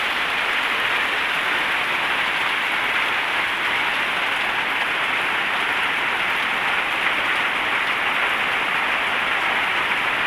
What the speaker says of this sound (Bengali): ভারী বৃষ্টি।